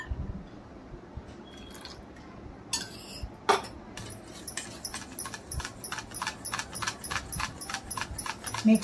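A spoon stirs shrikhand, a mango strained-yogurt dessert with a splash of milk, in a bowl, giving repeated soft wet squelches and clinks of metal on the dish, close and fairly quiet, with no talking.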